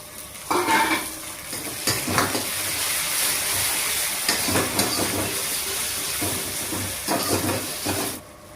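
Loud sizzling as tomatoes are added to fried onions in a hot pan for dal tadka, with bursts of stirring and scraping, the frying hiss swelling and easing over several seconds.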